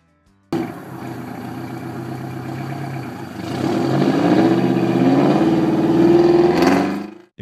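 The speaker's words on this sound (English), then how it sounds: "If you've ever heard an 8V71 at full throttle, you already know where the nickname comes from." A Detroit Diesel 8V71 two-stroke diesel at full throttle, a loud, sustained engine roar that starts abruptly, then climbs in pitch and intensity midway as it revs harder before cutting off near the end.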